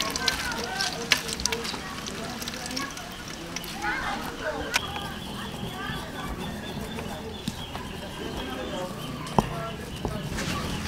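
Pork sizzles and crackles in a hot pan for dinuguan, a steady close frying hiss dotted with small pops, while a person talks over it.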